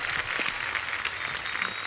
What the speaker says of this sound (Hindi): एक बार राजकुमार और नुसरत के लिए जोरदार तालियां